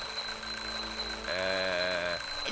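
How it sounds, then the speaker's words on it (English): A smoke detector alarm in a video game shrills continuously with a piercing high tone, its sound shifting midway into a harsher buzzing pulse, close and loud throughout. "I'm, just testing the smoke detector"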